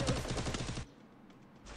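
Rapid automatic gunfire in a competitive online shooter match, a dense burst of loud close shots that cuts off abruptly, followed by quieter ambient game noise.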